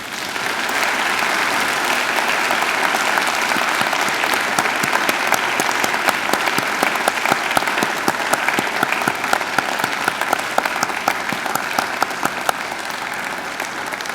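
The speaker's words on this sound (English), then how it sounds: "Turn around, face your family and friends and give them a hearty round of applause." Graduates at a university graduation ceremony give a hearty, dense round of applause to their families and friends, sustained crisp clapping from a large crowd lasting the whole stretch.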